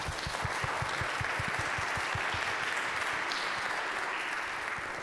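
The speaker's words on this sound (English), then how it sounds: "I think we should applaud." An audience applauds after an essay reading, a dense sustained clapping that fills the room, with a low rhythmic thumping underneath and no talking on top.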